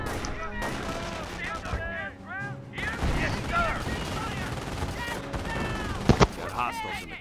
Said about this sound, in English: Ground infantry is firing on us!